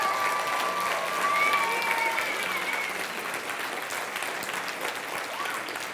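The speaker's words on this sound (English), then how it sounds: "let's give all of our teams a round of applause" Round of applause from an audience for 17 high school teams at a Teacher Prep Academy event, sustained even clapping from a sizeable crowd with a faint voice above it, slowly tapering.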